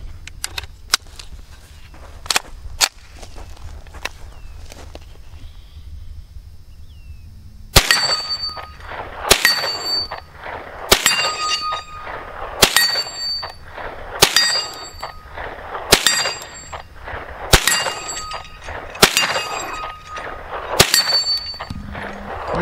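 Shots from a Ruger PC Carbine fitted with a Bushnell TRS25 red dot ring out against steel targets outdoors, a series of sharp cracks each followed by a metallic clang, spaced a second or two apart, with no talk.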